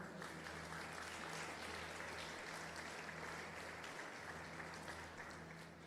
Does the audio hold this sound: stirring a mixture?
no